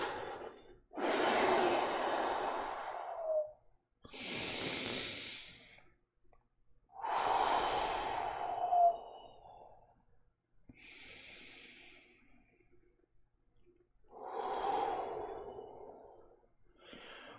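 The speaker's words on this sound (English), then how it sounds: "let's go do some Taekwondo breathing exercises" Taekwondo breathing exercises: about five forceful, breathy exhales and sighs, each lasting a second or two and separated by short pauses, close and fairly loud, with no talking.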